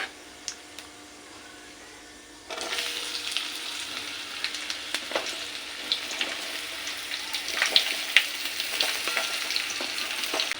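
Raw mango pieces drop into hot oil with dried red chilli and panch phoron for a sweet pickle. A quiet hiss jumps to a loud, crackling sizzle that keeps popping and spitting close by.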